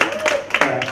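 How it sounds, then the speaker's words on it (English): Brief burst of audience clapping for a student who just received a job offer, a few scattered sharp claps mixed with a voice speaking. "so can we give another round of applause?"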